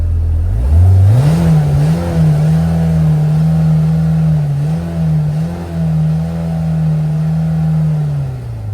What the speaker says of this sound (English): I don't particularly like the high revving engine. I'll just let you hear what it sounds like in the cab.